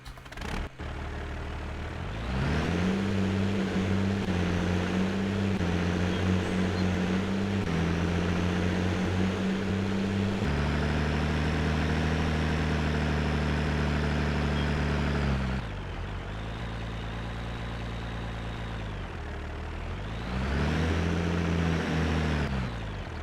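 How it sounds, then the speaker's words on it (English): Farm mowing tractor engine running steadily nearby, a loud droning idle that rises in pitch as it revs, drops back after about fifteen seconds, then climbs again. "This is our mowing tractor."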